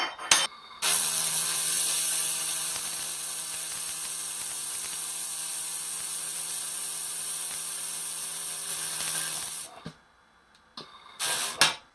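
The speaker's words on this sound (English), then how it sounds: "I'm going to try and do a wider weld." A laser welder runs a wider weld with wire feed, a steady loud hiss with faint ticking that holds for about nine seconds, then cuts out, followed by two short bursts near the end.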